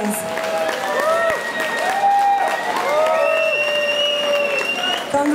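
Applause from the audience at the Miss Polonii Ireland pageant final as a winner is honored, steady clapping under prominent music with a singing voice and cheering voices on top.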